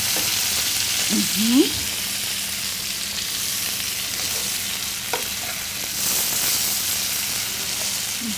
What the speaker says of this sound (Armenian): ինքը իր սեփական սոուսի մեջ տապակվում է